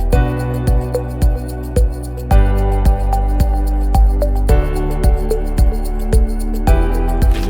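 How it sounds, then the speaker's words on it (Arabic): Coppersmiths in Khan el-Khalili, Cairo, hammer copper in a loud, steady rhythm of sharp metallic strikes with a ringing tone, each blow landing close and forceful. "ده صوت صناع النحاس"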